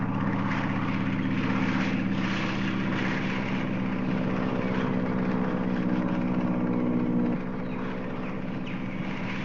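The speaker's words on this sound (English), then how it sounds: "An airplane, basically." Distant propeller aircraft droning steadily across the sky, a continuous low hum that stays level before easing slightly near the end, with no talking.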